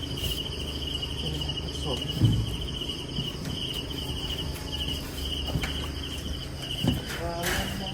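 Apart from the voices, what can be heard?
crickets chirping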